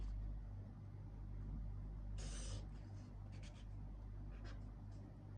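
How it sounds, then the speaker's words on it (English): A pen draws a line on paper while a teacher works through a rounding exercise, giving a brief scratchy stroke over a steady low hum, followed by a few shorter faint scratches. "At first, I will draw my line"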